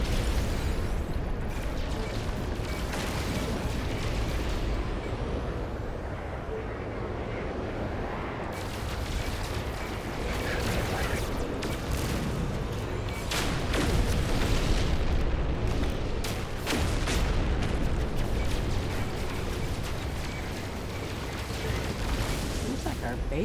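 Starship guns in No Man's Sky fire in dense, repeated booming bursts throughout, loud and continuous, with someone talking at times over the barrage.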